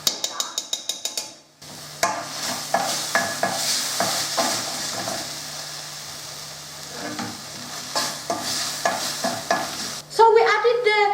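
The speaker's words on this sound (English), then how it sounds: "we added the garlic and ginger paste to the onions" Garlic and ginger paste stirred into onions frying in a pan for lamb keema, with steady sizzling and repeated scraping strokes from a utensil; a short pause comes early, then louder clatter and bubbling near the end.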